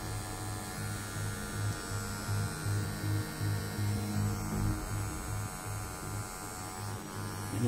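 A coil tattoo machine runs with a continuous buzzing hum, steady and fairly close, with slight pulsing in loudness and no talking.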